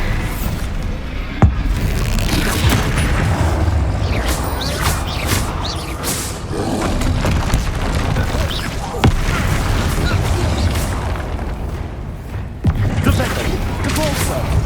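Bombarda exploding spell in the video game Hogwarts Legacy booms amid dense, loud combat noise, with sharp cracks near the start and around the middle and end over a continuous rumbling, crowded battle mix.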